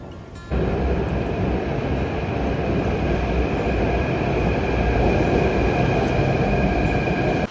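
A metro train runs loud and close at Badi Chaupar metro station in Jaipur, its steady rumbling roar starting abruptly and holding constant, with a faint high whine riding over it.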